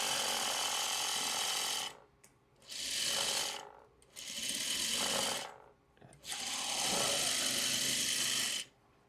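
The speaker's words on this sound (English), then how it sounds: "Let's sew." A sewing machine stitches fabric in four loud, close bursts of rapid mechanical clatter separated by short pauses, with no voices.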